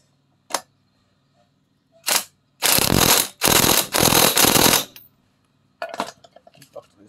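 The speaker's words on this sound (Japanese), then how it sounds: "また懲りずにインパクトで私は締めますと" On a Honda Gyro Canopy scooter, an impact wrench tightens a greased bolt in several short rattling bursts, with sharp clicks before and after in a quiet space.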